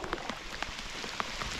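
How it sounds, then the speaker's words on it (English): Heavy summer rain falls at Larry's Bay, Matahina, New Zealand, pattering steadily on nearby surfaces, with scattered louder drops striking close by. "let's go catch a fish in the heavy rain"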